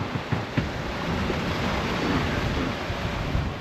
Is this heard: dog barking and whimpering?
no